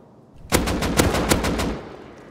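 Rapid semi-automatic rifle fire in the survival game Rust, about ten sharp cracks in quick regular succession, loud and close, with no talking.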